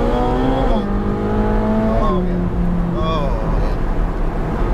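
A Ferrari 458 Speciale Aperta V8 at part throttle, a loud, close, steady engine drone whose pitch climbs and drops through gear changes, with road and wind noise underneath.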